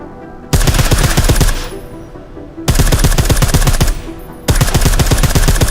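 Silenced gunfire from a weapon in the video game Deus Ex Mankind Divided comes as three loud bursts of rapid automatic shots, separated by short pauses.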